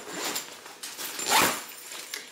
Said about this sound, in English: So when you open up the zipper